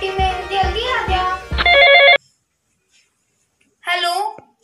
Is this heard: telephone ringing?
yes